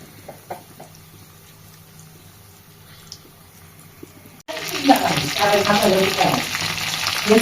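Chicken frying in soybean oil, quiet kitchen clatter at first, then a sudden loud burst of dense sizzling and crackling that continues steadily.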